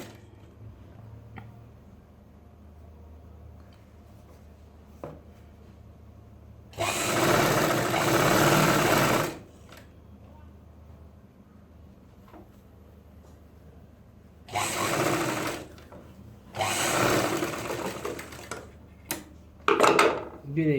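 An electric sewing machine stitching trouser fabric for pajamas runs in short bursts, each a few seconds of loud buzzing whir separated by quiet pauses with light handling noise.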